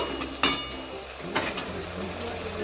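Malabar spinach with released water being stirred in a pan for a rustic Bengali chachchari, giving a low frying sizzle with a few sharp spoon scrapes and clinks against the pan.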